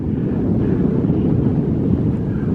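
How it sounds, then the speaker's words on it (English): Strong, steady wind buffets the microphone on a breezy rocky summit along the Appalachian Trail, a continuous low roaring rush with no other sounds standing out. "Sorry about the wind, it is breezy."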